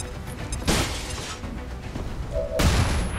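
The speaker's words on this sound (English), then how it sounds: "Pin you guys down with flashbang." A flashbang grenade goes off in XCOM 2 Long War: a broadband burst near the middle, then a second loud blast toward the end over a steady game background.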